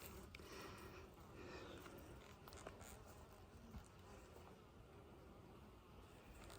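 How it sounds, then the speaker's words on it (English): Honey bees buzz steadily around an open hive frame during an inspection, a continuous close, moderately loud swarm drone with occasional louder passes near the listener. "There's a bee walking around with a bunch of pollen on her right there."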